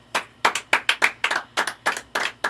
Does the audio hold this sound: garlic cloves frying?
no